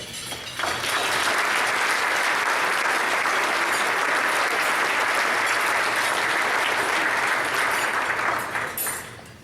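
An audience at a Rochester downtown development talk breaks into loud, sustained applause welcoming urban researcher Jennifer Vey, swelling almost at once and holding steady for about eight seconds before tapering off.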